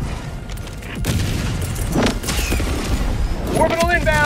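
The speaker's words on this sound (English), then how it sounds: "Calling in orbital strike. Requesting orbital strike. Firing orbital strike." Orbital strike explosions in the video game Helldivers 2 boom and rumble in heavy, overlapping blasts with crackling debris, loud and close, while voices talk over the barrage.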